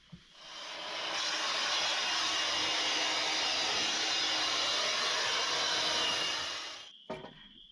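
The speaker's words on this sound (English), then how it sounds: "That blower comes in handy for cleaning the floors." A blower runs steadily for about six seconds while cleaning the floor inside a truck camper, a loud continuous rushing hiss that starts abruptly and cuts off with a small click at the end.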